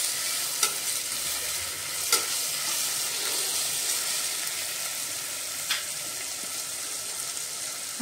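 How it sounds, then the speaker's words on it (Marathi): Coriander powder and ginger-garlic paste frying in a pan for mutton paya soup, a steady faint sizzle running throughout with a few soft stirring scrapes and clicks. "धना पावडर, आलं लसूण पेस्ट, सर्व मिक्स करूया। हे भाजून घेऊया चांगलं।"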